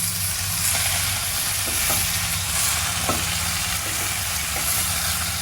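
Bacon stir-fried over high heat, a loud continuous sizzle with steady broadband crackle and occasional soft scrapes of stirring, close and alone without talk.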